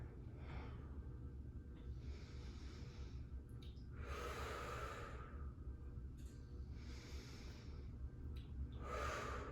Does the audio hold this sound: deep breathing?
yes